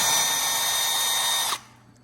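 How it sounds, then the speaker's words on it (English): A power drill run as a driver on bench screws gives one loud, steady whirring burst of about one and a half seconds, then cuts off abruptly into quiet. "I would finish it using the drill as a driver"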